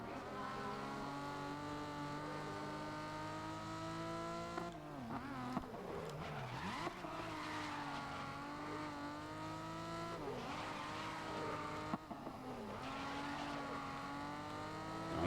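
Video game cars race along a track, their engines droning steadily with revs rising and falling, and brief tire squeals and skids break in a few times as they ram and pass traffic.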